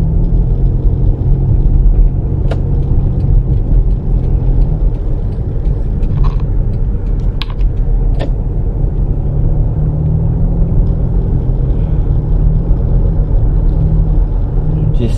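A car cruising along Lawrence Avenue in Norridge, giving a steady low engine and road rumble from inside the cabin that holds evenly throughout, broken by a few faint clicks.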